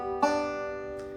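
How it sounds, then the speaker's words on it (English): A single banjo phrase, a Scruggs-style lick played over the five chord, rings out with a sharp pluck followed by a sustained decaying tone and one softer note near the end, close and alone. "it's a variation or an inversion of the Scruggs lick"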